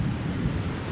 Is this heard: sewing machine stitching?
no